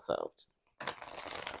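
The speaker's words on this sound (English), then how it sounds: "then I can show you how they shuffle" Oracle cards being shuffled sideways and bridged, a soft papery riffle running steadily after a brief word and a short pause.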